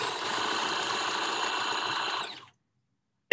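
A sewing machine stitches ties for costume construction, running at a steady, even whir for about two and a half seconds before stopping abruptly, followed by a short click.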